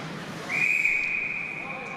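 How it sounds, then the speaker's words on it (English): A referee's whistle at an ice hockey game sounds once as a single sustained shrill blast over faint arena noise. "The whistle blows, and we'll see if we've got a call."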